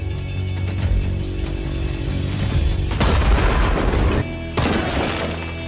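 A thrown bomb bursts in a cave hideout, making a loud, sustained booming roar with crumbling debris that swells, cuts off abruptly, then rumbles on.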